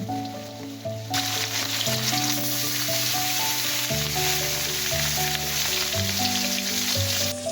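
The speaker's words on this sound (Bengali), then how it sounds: "নুন হলুদ মাখিয়ে মাছগুলো কড়া করে ভাজছে" Rohu and pangas fish pieces rubbed with salt and turmeric fry crisply in hot oil, giving a loud, continuous close-up sizzle with a steady crackle, heard alone over a low tonal hum in the background.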